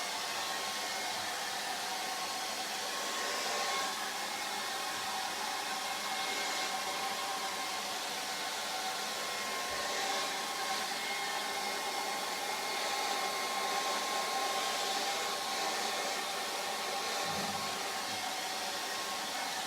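A hair dryer blows steadily on a charcoal and pastel portrait to dry it, a close, continuous broadband whoosh that holds an even level for the whole stretch with no talk.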